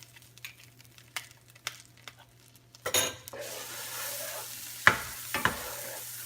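Butter melting in a frying pan over medium heat, a soft sizzle that swells after a few light taps and utensil clinks, with a couple of sharp scrapes near the end.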